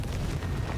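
A Confringo blasting spell explodes during Hogwarts Legacy combat, a short, dull, rumbling boom with a low-heavy burst, moderately faint and alone.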